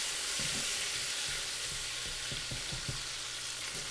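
Garlic parmesan steak bites with heavy whipping cream sizzling steadily in a pan, with soft scraping and clacking as they are stirred around, no talk.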